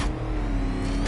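A car engine revs in Batman Arkham Knight, a loud and close mid-pitched roar that holds steady for about a second, with no speech over it.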